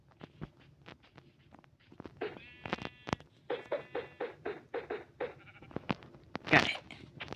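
Sheep in a blocky sandbox game bleat over and over, short clipped calls in a steady run, loud and close with nothing else competing.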